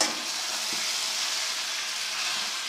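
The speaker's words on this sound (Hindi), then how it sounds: "हम तमाम आलू इसमें जो है वो शामिल कर देते हैं, और बहुत ही अच्छे तरीके से हम इसको मसाले में मिक्स करेंगे" Potatoes fry in a pan as they are stirred into masala, giving a steady, close, even sizzling hiss with no talking.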